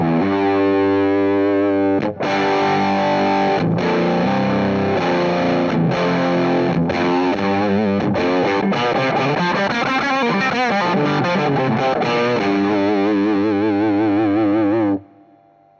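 An electric guitar through an EarthQuaker Devices Sunn Life V3 octave distortion pedal on its op-amp setting plays loud, heavily distorted chords and riffs with a bright octave-doubled edge, continuous for about fifteen seconds before cutting off abruptly.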